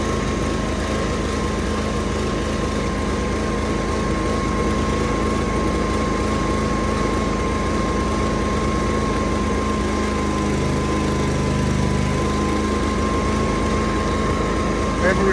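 A Toro Wheel Horse lawn tractor engine with power steering runs steadily and loudly nearby, its misfiring hum droning without a break, while a person talks over it.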